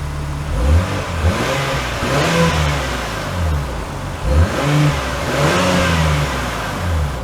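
A 2024 Acura MDX Type S SUV pulls away, its engine note rising through repeated revving surges and gear changes, loud and close, with no talking.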